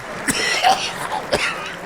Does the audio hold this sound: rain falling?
no